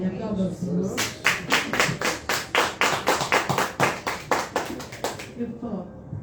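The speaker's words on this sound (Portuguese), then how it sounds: "Aplauda ao Senhor." A church congregation claps in a steady, regular rhythm, about a dozen even beats roughly half a second apart that then stop, with voices murmuring before and after the clapping.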